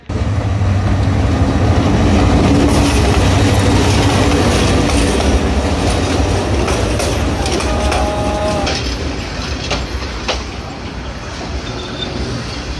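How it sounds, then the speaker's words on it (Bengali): A Kishoreganj Express passenger train at Kishoreganj railway station, rolling with a steady rumble and rhythmic clickety-clack of wheels on rails, loud and close throughout, with brief metallic squeals toward the end. "আমরা এখন রয়েছি কিশোরগঞ্জ রেল স্টেশনে। আর কিশোরগঞ্জ রেল স্টেশনে দুইটি ট্রেন রয়েছে।"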